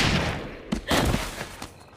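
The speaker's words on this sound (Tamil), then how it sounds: "ஜேமியாவை ஏற்கனவே எடுத்துட்டு வந்து துப்பாக்கியை வச்சு ஃபாஸ்டரை சுட்டுறா" Gunshots in a film crack out as a few sharp, loud bursts spaced over two seconds, sitting above a dense rumbling soundtrack with no talk.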